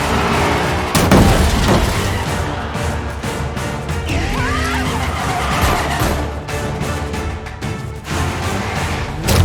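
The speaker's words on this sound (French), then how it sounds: "Allez, foncez, appuyez sur l'accélérateur." A car accelerates hard in a movie chase scene, its engine roaring loud and close with tires squealing and skidding throughout.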